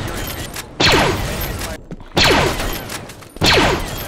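Video game shotgun fire: three loud, heavy blasts about a second and a half apart, each followed by a rattling tail, with background game noise between shots.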